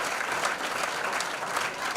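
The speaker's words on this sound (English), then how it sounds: "give them a round of applause" Comedy club audience applauding at a live stand-up comedy semi-final, a dense steady wash of clapping that holds at full strength throughout without a break.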